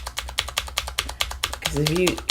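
Brisk, loud clicky keystrokes on a Cherry MX Blue mechanical keyboard tap out an even rhythm, and a voice briefly speaks near the end.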